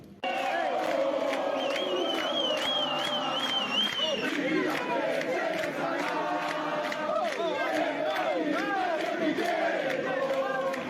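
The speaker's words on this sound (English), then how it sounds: "they're protesting, they're chanting, they're singing, they're cheering" A large protest crowd rallying over energy bills chants, sings and cheers continuously, with loud overlapping shouts and voices rising and falling throughout and no break in the roar.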